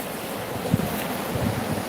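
Sea waves at a beach, a steady broad wash of surf with wind buffeting the microphone, continuous and fairly loud without any voices.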